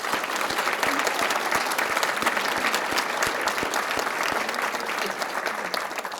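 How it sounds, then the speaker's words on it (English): Steady applause from a room full of people at an awards event honoring nurses, sustained clapping at an even level throughout. "Give you a round of applause for all of that."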